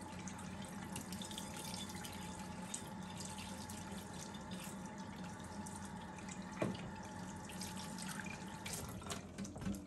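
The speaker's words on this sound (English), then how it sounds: "Let me wash my hand off." Hands washed under a running tap in an Appalachian kitchen: a steady faucet stream splashes continuously at low level, with one brief louder clatter near the end.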